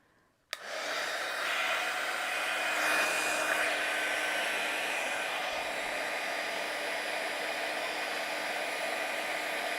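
A heat tool for paper crafting switches on abruptly and blows with a steady, loud, hissing whir that continues unbroken for about nine seconds.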